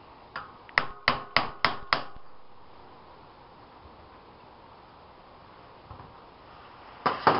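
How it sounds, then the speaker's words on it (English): Sharp hammer blows knock a Sturmey Archer S3X fixed-gear three-speed hub's ball ring loose counterclockwise: six quick metallic strikes in a steady row, a long pause, then two more hits at the end. "Now we need to unscrew the internals from the shell by driving this ring counterclockwise."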